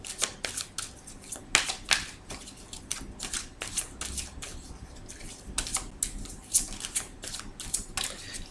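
Tarot cards shuffled and cut by hand, a rapid series of crisp riffling snaps and slaps repeating steadily, close and clear with almost no talking.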